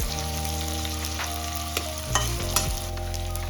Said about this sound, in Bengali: পেঁয়াজটা দিয়ে দিয়েছি একটু নাড়াচাড়া করে নেবো একটু হালকা ভাজা ভাজা হবে